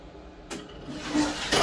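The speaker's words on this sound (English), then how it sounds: "Auto flush." An automatic flush on a Japanese toilet in Koyasan: a sudden rush of water that starts abruptly and swells into a loud, close gush lasting about a second.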